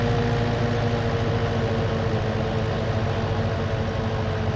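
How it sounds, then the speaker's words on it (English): A small tractor's engine in Farming Simulator 19 drones steadily while mowing around farm buildings with its PTO-driven mower engaged, a constant low rumble throughout with no talk. "so we're just gonna mow around the buildings with this tractor."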